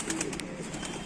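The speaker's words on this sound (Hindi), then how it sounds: "ये वहीं के कबूतर हैं" Domestic pigeons kept in Rampur give a brief, soft, low coo over a hissy background, heard alone without voices.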